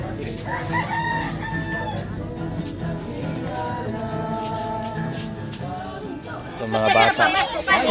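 A rooster crows loudly near the end, a rising call over steady background music and chatter from people nearby at a Christmas caroling and grocery giveaway by police in the Philippines.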